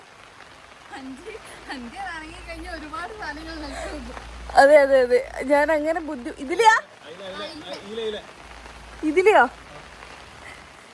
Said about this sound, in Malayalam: കറക്റ്റ് സമയത്ത് ഒരു മഴ